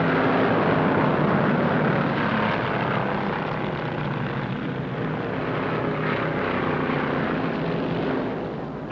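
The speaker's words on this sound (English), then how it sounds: "Roberts in number 22 Pontiac showing the way as he winds up that big engine" Loud, sustained engine roar of 1961 NASCAR stock cars at full throttle at Daytona International Speedway, a dense continuous drone that swells and fades slightly toward the end.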